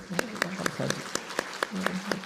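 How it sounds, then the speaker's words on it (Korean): Church congregation clapping in unison during a Sunday service, sharp evenly spaced claps about four per second, moderately loud and sustained briefly. "우리 박수 한번 하십시다"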